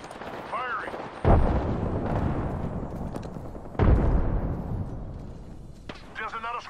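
Two heavy, booming gunshots ring out in a multiplayer shooter, each a loud close blast with a long rumbling tail, while voices chatter over the action.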